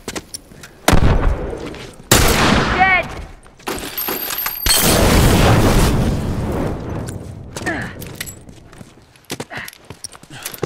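The Last of Us Remastered firefight: several loud, sharp shotgun and gunfire blasts boom at uneven intervals, followed by scattered smaller impacts and clatter.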